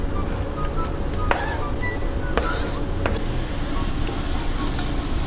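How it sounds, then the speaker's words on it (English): Mushrooms and onion sizzle steadily in a hot pan, a broad crackling hiss with a few light clinks and scrapes of utensils. "Nice sizzle."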